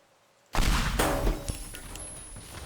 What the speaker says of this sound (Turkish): Arkadaşlar büyük bir patlama olacak biraz gidelim.